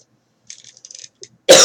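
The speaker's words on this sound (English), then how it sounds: "I am going to cough some more." A few soft throaty rasps and small clicks, then a sudden loud, harsh cough bursts out close by at the end, during a lecture.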